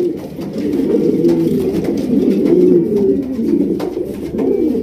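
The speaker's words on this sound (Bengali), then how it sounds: "অনেক সুন্দর এক জোড়া কবুতর" A pair of pigeons coos close by in low, throaty, rolling murmurs that continue without pause, with no other sounds around them.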